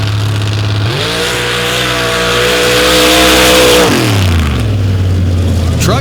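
A loud Outlaw Pro Stock drag racing car engine roars, its pitch climbing steadily as it accelerates hard down the strip for several seconds, then drops away as it passes.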